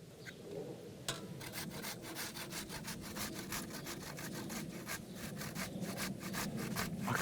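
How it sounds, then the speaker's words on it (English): Half a cucumber rubbed against a coarse grater, a steady run of rapid rasping strokes, close and fairly loud throughout, with no talking. "And then take half a cucumber and coarsely grate it."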